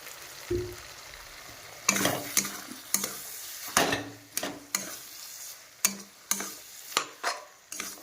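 Chili sauce being stirred into a sizzling frying pan for chow mein, with a spatula scraping and tapping the pan in irregular strokes over a faint steady fry, close and quiet, with no talk.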